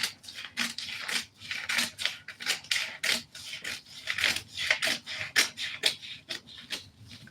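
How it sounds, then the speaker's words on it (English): Scissors cut through a dress pattern in quick, close snips, around twenty crisp strokes in a steady rhythm with short pauses. "I'm going to cut the back pattern, rather."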